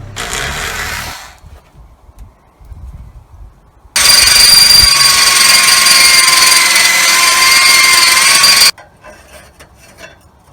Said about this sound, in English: drill a little hole, and then screw them on